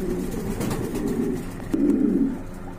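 Pigeons, including Spanish pouters, coo in low, throaty murmurs at a pigeon seller's stall, a steady close chorus that swells louder toward the end, with no talk over it.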